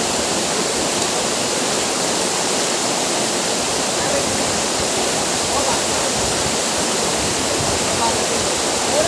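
Ashokjhar waterfall pours down forcefully in a constant, dense roar of crashing water, loud and close for the whole stretch, with voices faintly mixed under the rush.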